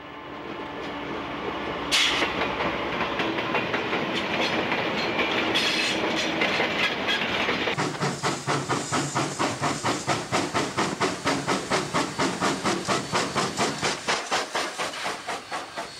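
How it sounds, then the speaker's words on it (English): A National Rail goods train hauled by an NR class diesel locomotive passes close by in New South Wales, with a loud hissing roar that gives way to a steady, rhythmic clickety-clack of wagons rolling over rail joints. "Present-day down National Rail goods train is hauled by NR113 at"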